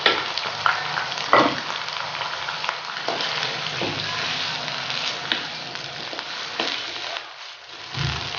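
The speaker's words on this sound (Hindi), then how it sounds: "अब हम इसमें प्याज वाला मसाला डालेंगे। और इसे अच्छे से हिला लेंगे।" Chicken fries in a pan as onion masala is added and stirred, a steady close sizzle broken by scraping spoon strokes and clinks against the pan, with brief talk in places.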